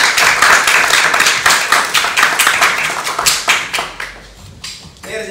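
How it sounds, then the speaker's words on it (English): An audience at a chess club talk applauds a speaker: loud, dense clapping from many hands that thins out and fades toward the end. "Let's give him a round of applause."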